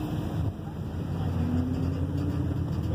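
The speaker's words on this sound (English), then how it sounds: "Go through the tunnel. See how the car sounds" Car driving through a tunnel at Charlotte Motor Speedway during a charity ride event, a steady, loud rumble of engine and road noise echoing continuously throughout, with a constant high whine above.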